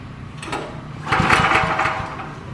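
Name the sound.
small engine failing to start after choke adjustment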